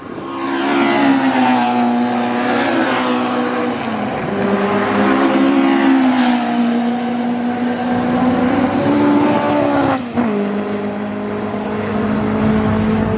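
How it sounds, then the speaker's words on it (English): Historic saloon race cars and 1990s touring cars, including a Chevron, lap during qualifying at Oulton Park. Loud, near engines drone and rise through the gears, with a sharp change of pitch partway through. Nobody speaks. "this qualifying session is when obviously the cars will be at their fastest"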